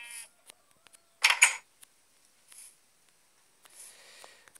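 Sheep bleat in the blocky survival game LokiCraft, a few short, thin bleats separated by quiet gaps, with soft clicks in between.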